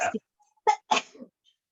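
A single short sneeze bursts out, followed by a brief second exhalation, with a quiet room around it.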